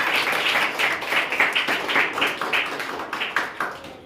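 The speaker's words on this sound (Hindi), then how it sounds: "एक बार जोरदार ताली से स्वागत करें।" Audience clapping at a school exam results announcement as a first-place student with 83% is welcomed, a steady patter of many hands filling the room with no voices over it.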